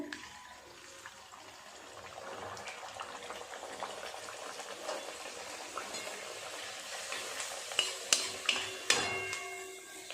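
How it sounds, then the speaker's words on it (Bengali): Luchi, rolled puffed flatbread, frying in well-heated oil for a festive offering plate, a steady bubbling sizzle throughout with a few sharp clinks of a metal utensil or pan near the end; no talking. "এক থালা লুচি আমি বেলে নিয়েছি, এগুলো আগে ভেজে নেব"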